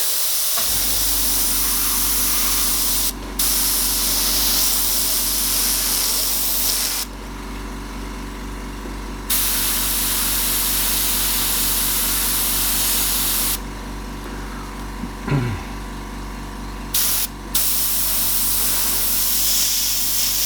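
An airbrush spraying paint over a stencil held down with application tape and a shield, giving a steady close hiss in several long bursts separated by short pauses.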